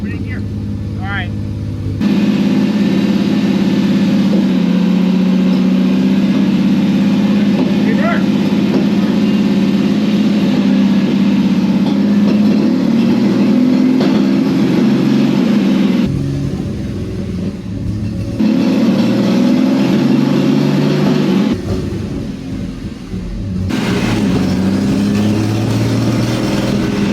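An old Pontiac Ventura's engine runs steadily after sitting for 40 years, a loud continuous rumble that drops out briefly in places, with people talking over it.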